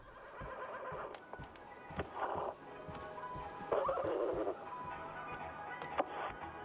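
A horse whinnies twice amid clip-clopping hooves and scattered knocks in the video game Wanderstop, the calls loud and close in a busy, game-like soundscape.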